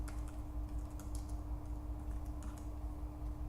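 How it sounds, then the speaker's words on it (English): Keys tapped on a computer keyboard while entering a search for an office location in a cyber security demo, a quick irregular patter of light clicks close up over a steady low electrical hum, with no voices. "All I have to do is type in Dropbox Australia."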